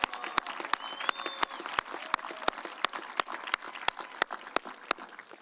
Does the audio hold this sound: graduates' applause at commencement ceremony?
yes